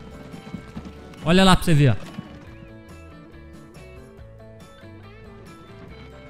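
A horse-drawn cart approaches in the video game Transport Fever, with a loud whinny followed by clip-clopping hooves and light background game music, while someone talks over it.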